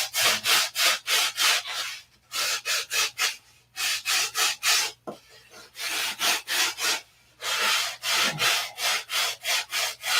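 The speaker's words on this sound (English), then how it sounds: "So we'll just sand" Hand sanding on a balsa wood mold buck, a steady series of rhythmic rasping strokes close by, with short pauses between bursts and no talking.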